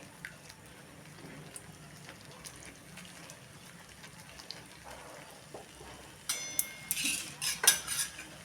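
A spoon scrapes and stirs softly and steadily through gram-flour batter with fenugreek in a pan, then several louder metallic clinks come near the end.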